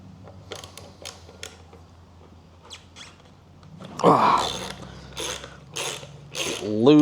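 Wrench loosening a stuck wheel bolt on a FloatWheel Atom electric skateboard, a series of close, sharp ratcheting clicks in short bursts with metallic creaks, growing louder toward the end.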